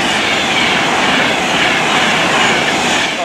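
A train passes through a railway station with a loud, continuous roaring rumble of wheels and cars, close and unbroken for the whole span, with no voices.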